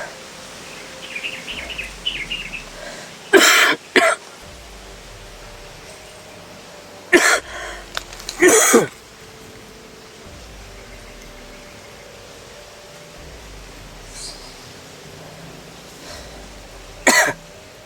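A man coughs in separate sharp bursts, single and paired, close to the microphone against a quiet outdoor background with faint birds and insects.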